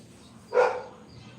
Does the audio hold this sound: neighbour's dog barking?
yes